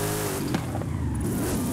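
A minivan engine revving during a drift in Forza Horizon 5, a loud, close, strained growl whose pitch wavers briefly.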